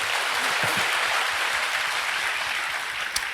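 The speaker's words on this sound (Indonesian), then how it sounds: "Berikan tepuk tangan kita untuk Tuhan kita." Dense, continuous applause from a church congregation fills the space, a broad wash of many hands clapping at once, steady and loud throughout.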